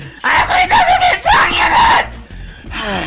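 A person lets out a loud, sustained scream that wavers in pitch for about two seconds, followed by a brief trailing cry close to the mic.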